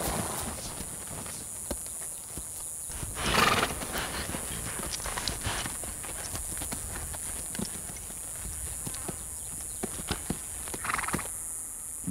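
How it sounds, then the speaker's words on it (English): Bands of wild mustangs at a desert waterhole in Nevada in July: steady hoof clip-clop and shuffling throughout, with short neighs and whinnies breaking out now and then over a constant background hiss. "Bands of wild horses,"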